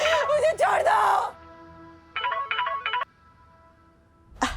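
A telephone ringtone chimes a short melodic phrase for about a second for an incoming call in a TV drama scene, following loud distressed vocal cries, then silence.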